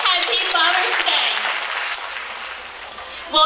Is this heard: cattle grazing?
no